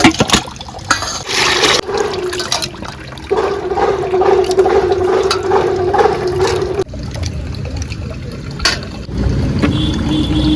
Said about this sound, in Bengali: একেবারে পরিষ্কার মাছ এই যে আমি তিনবার ধুয়ে নেব ভালো করে